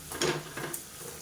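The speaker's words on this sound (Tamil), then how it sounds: "இப்போ பீட்ரூட் சேர்த்துட்டு நல்லா வதக்கி விட்டுட்டேன்" Chopped beetroot sautéing in a pan for a Madurai-style beetroot chops curry makes a quiet sizzle, with a few short scraping stirs of a spoon against the pan.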